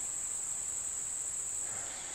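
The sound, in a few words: cricket chirping outdoors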